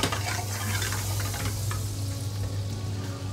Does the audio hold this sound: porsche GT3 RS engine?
no